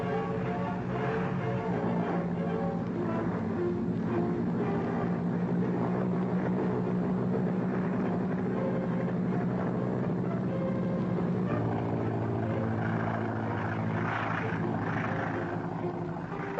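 A Boeing B-17 Flying Fortress bomber takes off from an airfield, its piston engines giving a loud, steady, droning roar with a low rumble that holds throughout, with no talk over it.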